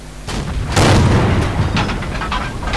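Tank cannon fire in World of Tanks gameplay, a deep booming shot followed by rumbling echo and scattered impact cracks amid game battle noise, fairly loud and without talk.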